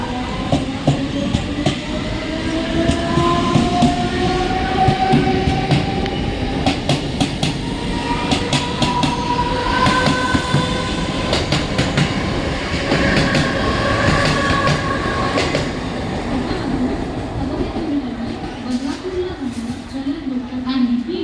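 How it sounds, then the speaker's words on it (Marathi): Mumbai mini local train pulling into platform 2 at a busy station, a loud continuous rumble with clattering wheels and squealing tones, while a platform announcement voice talks over it. "शिवाजी महाराज टर्मिनस जाने वाली मिनी लोकल थोड़े ही समय में प्लेटफॉर्म क्रमांक 2 पर आ रही है"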